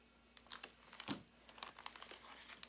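Paper envelope tucked into a handmade paper book being handled and folded back together, giving soft crinkling and rustling with a few sharper paper crackles and no talk.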